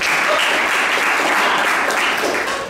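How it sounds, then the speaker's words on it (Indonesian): Students in a campus lecture hall applaud together, a dense, loud and continuous wash of clapping that stays even before tapering slightly at the end. "tepuk tangan untuk kalian"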